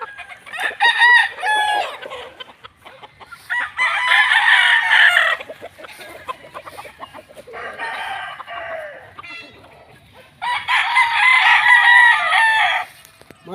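Several gamefowl roosters at a game farm crow in four loud, close bursts separated by brief pauses, with faint clucking and soft farmyard noise between calls.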